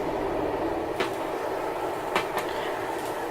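A passing train gives a continuous rumbling roar with a few sharp clacks and rattles standing out, fairly close and steady throughout, heard without talk.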